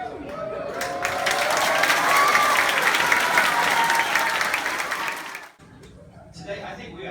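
A crowded room at a back-to-school assembly breaks into sustained, dense applause with a few cheers, then fades off abruptly near the end.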